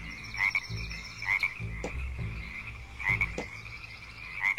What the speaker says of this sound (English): Oh, Frog is so cute.